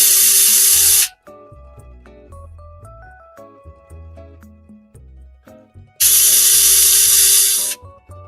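Bolts are driven in while PC components are assembled onto an Intel motherboard, with two loud whirring bursts of about a second each, close and alone, separated by quieter tonal background sounds.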